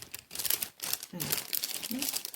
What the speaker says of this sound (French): Je suis désolée hein, pour le bruit, mais je remets dans les pochettes quand même.